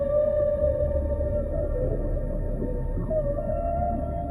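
A humpback whale calls underwater in long, sustained tonal moans that waver and bend in pitch over a deep rumbling ocean background, steady and fairly loud, with no voices.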